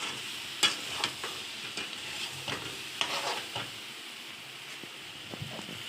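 Masala spices frying in a pan while being stirred, scattered scraping strokes over a soft, low sizzle, fairly quiet, with no talk.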